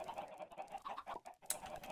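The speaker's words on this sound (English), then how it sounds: "This is more chickens than I've ever seen in a field ever." Many chickens in a large flock in a block-building video game cluck in a busy, overlapping chatter, faint and continuous with no talk.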